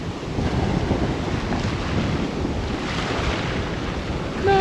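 Large sea waves break at a beach in a continuous loud roar of surf, with heavy wind buffeting the microphone throughout and no voices.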